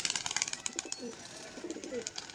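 Pigeons kept as long-flying homing birds coo in soft, low murmurs over a rapid series of fluttering clicks and rustles, close by and fairly quiet, with no one speaking.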